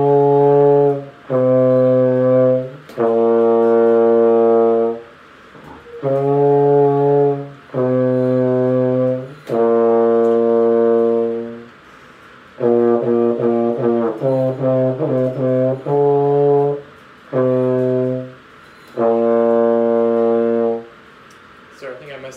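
A trombone plays a demonstration passage for a lesson, a run of separate sustained and shorter notes in a clear rhythm, loud and close with short gaps between phrases.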